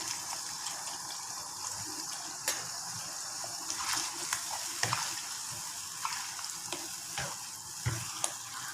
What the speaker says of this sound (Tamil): அப்படியே வதக்கிறேன்.